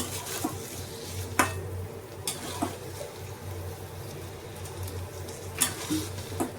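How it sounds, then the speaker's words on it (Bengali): Turmeric and chili powder sauté in a pan, a quiet steady sizzle with a low hum beneath and a few clinking scrapes of a spoon against the pan at irregular intervals. "এইবার কষাতে হবে।"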